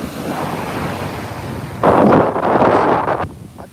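Ocean waves surge onto the shore at Montara State Beach in California, a loud crashing swell over steady wind rumble on the microphone, with no talk.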